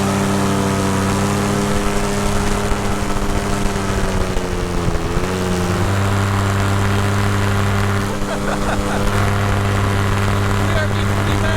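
A paramotor engine runs steadily, a loud, continuous propeller drone with stable pitch and a brief dip midway, under wind noise and occasional talk.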